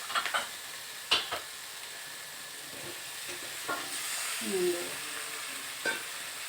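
Potatoes stirred in a frying pan while cooking a Bengali prawn and pumpkin ghonto, giving a soft steady sizzle with a few sharp scrapes and clinks of the spatula, fairly quiet, with no talking.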